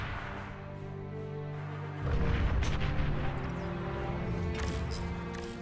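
An artillery tank in Beyond All Reason fires over a mountain, a deep boom that sets off a sustained rumbling roar, with distant crackling impacts following.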